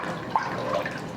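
Water is poured into a pot of split pea soup holding split peas and chicken stock, a short, soft, steady splash heard close with no talk.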